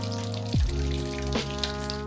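Water runs from a kitchen faucet as it is drained, a steady hissing flow with a low tonal hum and a sharp gurgling drop in pitch partway through, close and continuous.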